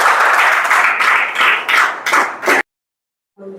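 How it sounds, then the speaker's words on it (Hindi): Students in a classroom clap loudly for a classmate receiving a prize for a weekly test, a brisk burst of applause in quick pulses that stops abruptly, followed by silence and the start of a voice. "आप लोग जोरदार तालियों से स्वागत करें।"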